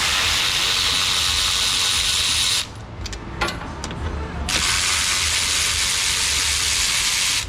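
A ratchet works fasteners loose on a ZF 8 or 9 speed automatic transmission pan, giving loud, rapid clicking at the start and end with a brief pause in between that carries a few clanks and rattles.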